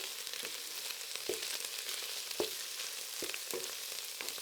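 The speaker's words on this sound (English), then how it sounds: "In goes the garlic, and again, I'll give it a stir and make sure everything is mixed with the onions." Garlic and onions sizzle steadily in a pan for a butternut squash soup, a soft continuous frying hiss broken by a few scraping taps of stirring.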